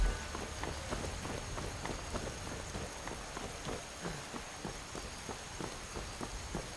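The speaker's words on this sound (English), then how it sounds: "Oh, it's gonna start raining." Steady rain falls across the landscape of Skyrim, a constant hiss of drops with regular soft patters, moderately loud and unbroken, with no voices over it.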